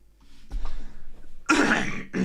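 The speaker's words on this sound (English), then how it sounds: "Sorry, I have to cough." A couple of harsh coughs close to the mic, a bigger burst followed by a shorter one, after a low throaty rumble.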